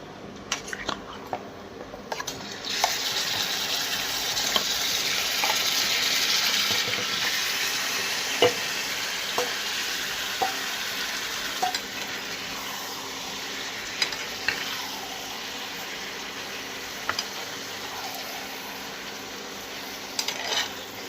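Marinated chicken hits a hot pan of fried chopped onions and sizzles loudly and steadily, with occasional light clinks and scrapes of a utensil stirring throughout.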